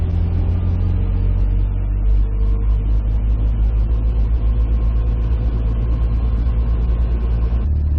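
A 1978 Toyota mini RV with a new Weber 32/36 carburetor drives along, its engine rumbling loud and steady throughout with slight rises and falls in revs.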